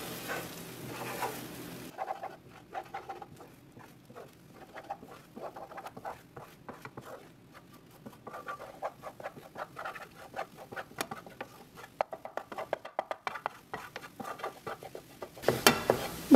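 Scrambled eggs are stirred in a pan for egg fried rice, giving soft, irregular scraping and tapping with a faint sizzle, steady and close, with a brief louder sizzling burst at the very start and end.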